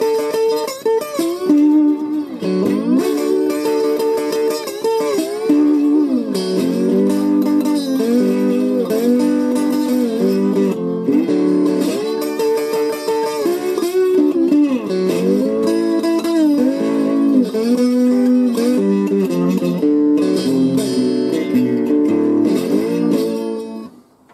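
Slide guitar plays an introductory solo, with notes gliding up and down in pitch, loud and close, sustained and continuous for about twenty-four seconds with no talking.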